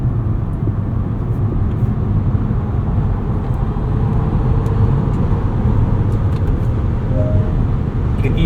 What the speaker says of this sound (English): The immediacy and the sound from this R1S under hard acceleration just doesn't get old.